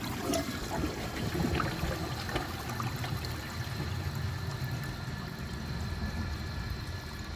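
Glacier Bay all-in-one toilet flushing a washcloth and a grocery bag together, a steady rushing, trickling wash of water that holds at an even level throughout, close by and with no talk over it.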